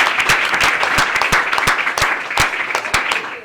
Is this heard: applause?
yes